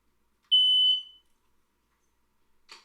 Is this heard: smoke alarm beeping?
yes